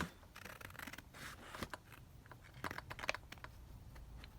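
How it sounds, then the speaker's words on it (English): Scissors cut through lace laid on a paper master board, giving faint, close snipping and scratchy rubbing sounds in short irregular bursts at low volume. "I'm going to lift the lace up there and just cut through"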